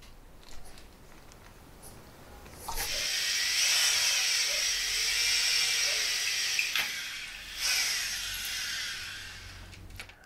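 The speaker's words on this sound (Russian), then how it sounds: "будем сверлить отверстие." A high whining electric drill bites into a motorcycle handlebar, running steadily for several seconds with a brief dip and restart, close and fairly loud.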